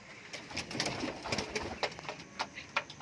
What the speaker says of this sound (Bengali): এটা একটা শার্টিং পায়রা আছে